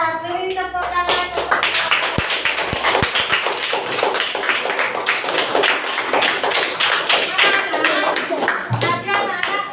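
A class of young children claps for the winning group in a school lesson. The clapping is rapid and energetic and goes on throughout, with a teacher's voice and children's voices heard over it.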